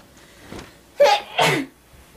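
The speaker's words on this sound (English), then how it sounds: "I gotta sneeze." A single video game character's sneeze sounds up close: a short intake followed by two sharp bursts, then quiet.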